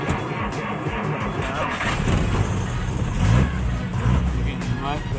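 An old car's engine is started with a starter button, turning over and catching into a steady running rumble that swells slightly, heard up close beneath a voice talking.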